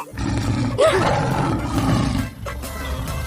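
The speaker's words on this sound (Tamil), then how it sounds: "இது ஏதோ சிங்கத்தோட சத்தம் மாதிரி இருக்குதே" A lion's roar rises loud and near, with a deep rumbling body and a short wavering cry near the start, then fades into a lower growl.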